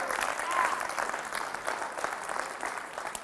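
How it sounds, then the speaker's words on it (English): A high school audience in a gym claps loudly and steadily for a student called up on stage, a dense wash of applause with some crowd noise running through the whole stretch. "Everyone give him a round of applause"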